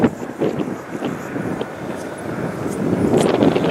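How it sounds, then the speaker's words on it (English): A low, broad engine rumble of helicopters overhead near a Navy field in the Tijuana River Valley, with wind buffeting the microphone, swelling slightly louder toward the end. "You may have heard in the background the helicopters trying to catch it here for you."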